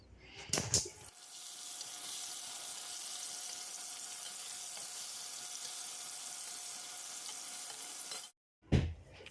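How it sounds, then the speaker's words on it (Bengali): Pieces of pointed gourd (potol) coated in salt and turmeric fry in hot oil, a steady, even sizzle that holds for several seconds and is framed by brief clatters at the start and end. "নুন হলুদটা মাখিয়ে নিয়ে আর কি পটল ভাজতে বসিয়ে দিলাম"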